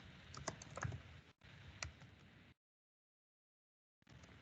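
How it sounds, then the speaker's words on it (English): Rapid typing on a computer keyboard, dense clicking keystrokes in two bursts with brief pauses, then silence before typing resumes, close and alone without talk. "I'm typing this instruction in the chat box."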